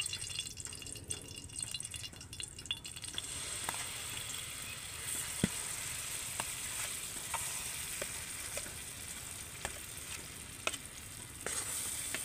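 Palm fruit pulp is stirred into ghee in a hot wok, giving a steady hiss and faint crackle with occasional light scrapes of the spatula, quiet and continuous throughout.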